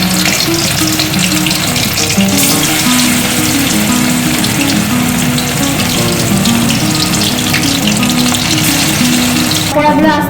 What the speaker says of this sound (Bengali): পকোড়াগুলো আস্তে আস্তে ভাজা হচ্ছে।